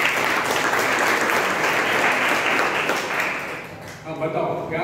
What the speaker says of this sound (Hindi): उसके लिए तालियां बजाओ.